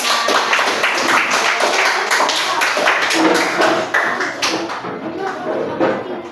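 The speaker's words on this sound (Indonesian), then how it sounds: "Kita sambut kelompok 1 dengan tepuk tangan" Students in a classroom clap to welcome a presenting group, a loud, dense burst of close hand claps with a rhythmic patter, fading toward the end as voices mix in.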